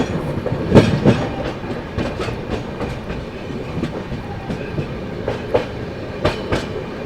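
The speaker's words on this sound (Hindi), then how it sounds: "अब भागेगी अपनी भाई वेस्ट बंगाल संपर्क क्रांति फिर से 130 में" The 12329 West Bengal Sampark Kranti Express running at high speed, heard from aboard as a loud, steady rumble with rhythmic clickety-clack wheel beats over rail joints.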